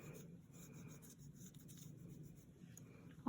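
A pencil eraser rubs back and forth across drawing paper, erasing a horizon line with a soft, continuous scratchy rasp, faint and close.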